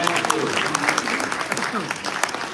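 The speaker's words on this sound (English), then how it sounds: "Give him a big round of applause" A crowd applauds at a gala dinner at a convention in Atlanta, steady dense clapping throughout the short stretch, with a voice faintly over it.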